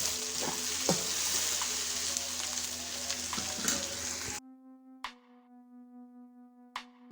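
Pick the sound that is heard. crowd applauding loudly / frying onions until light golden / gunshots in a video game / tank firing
frying onions until light golden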